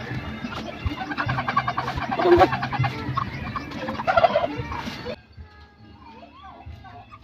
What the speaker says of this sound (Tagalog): Ito pala yung ano, bago kong manok.